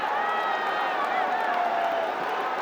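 A cricket crowd at Mirpur stadium during a BPL 2025 qualifier between Khulna Tigers and Chittagong Kings cheers steadily, with a dense wash of voices, whoops and some clapping and a commentator's voice running underneath.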